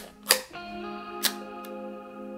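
The leaf shutter of a vintage Leidolf Lordomat camera gives two sharp, close clicks about a second apart, with a fainter third tick after, over a steady background hum.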